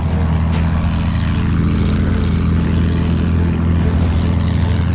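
Steady droning roar of a propeller airplane engine in the World War I shooter Battlefield 1, loud and continuous without clear rise or fall, with faint battle noise underneath.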